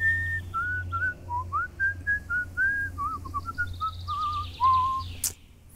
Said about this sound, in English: You hear that? Birds chirping?